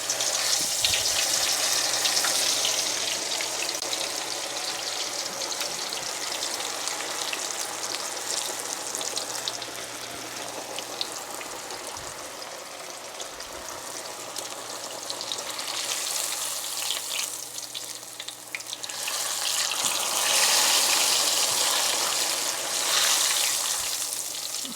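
Eggplant frying in hot oil, a steady broad sizzle with bubbling that holds throughout, swelling louder near the end, with no voices.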